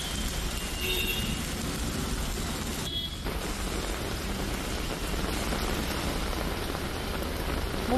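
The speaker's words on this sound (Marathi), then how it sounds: "जोरदार पाऊस आहे।" Heavy monsoon rain pours down in the Mumbai area, a dense, even roar that holds steady throughout, with faint traffic sounds mixed in.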